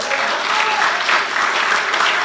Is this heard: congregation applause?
yes